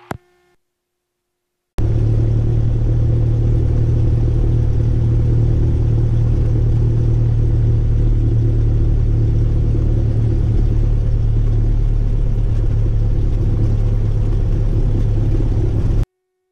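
A Cessna Skyhawk light aircraft engine on a grass strip drones steadily and loudly, heard from inside the cabin. A constant low rumble and hum kicks in after a short quiet gap and holds without pause.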